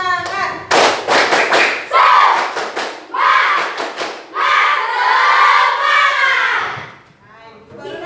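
Children in a classroom clap a rhythmic chant pattern in bursts, then shout and cheer together loudly, with voices rising over the claps before fading out.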